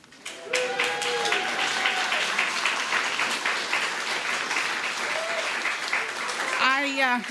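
Sustained applause from a congregation during an award presentation at a church Sunday service, dense steady clapping throughout, with a few voices and whoops rising above it.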